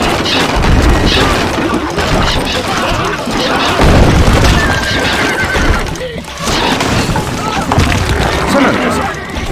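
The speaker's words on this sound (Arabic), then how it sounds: "الفرس تعدو." A horse neighs loudly over galloping hooves and booming game effects in Stronghold Crusader, a dense, continuous mix with a voice speaking through it.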